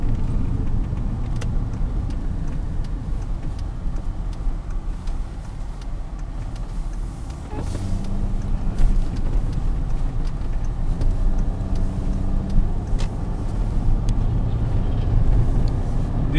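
A Ford small SUV with a 3.0 liter V6 drives along, giving a steady, moderately loud engine and road rumble from inside the cabin with faint ticks and rattles.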